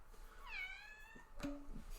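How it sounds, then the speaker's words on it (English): A pet cat gives a single drawn-out meow indoors, followed by a shorter chirping call, close and fairly quiet, with no talking. "my cat just meowed at me"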